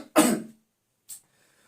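A man gives one sharp, close cough, followed a moment later by a brief faint throat sound, with silence around them.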